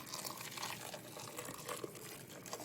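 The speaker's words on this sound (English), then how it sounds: "Back to the pan, pour the meat over the sauce." Wet, liquid pouring and sloshing, a steady thick stream of meat landing over sauce in a pan, moderately close with a fairly even level.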